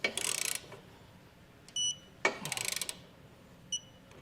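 Ratcheting clicks from a wrench tightening bolts on Westin E-Series round Nerf bar brackets on a 2021 GMC Sierra, two short bursts of rapid clicking separated by pauses, with a few faint metallic taps, fairly quiet and close.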